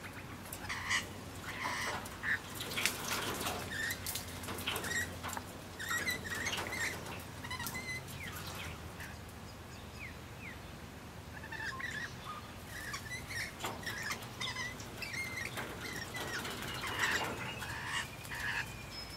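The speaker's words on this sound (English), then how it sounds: "Seems like I've got some parrots that are sitting on my roof having a bath in the gutter." Parrots bathe in a house's roof gutter, giving scattered chirps and squawks over steady patter and dripping water, fairly faint and continuous outdoors, with no voices.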